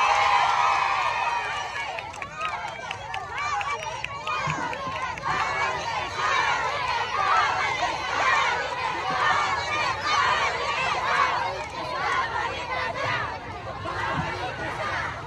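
A large outdoor crowd at an Isko Moreno rally in Tondo cheers and shouts continuously, a dense roar of many voices that stays loud throughout with no single speaker standing out.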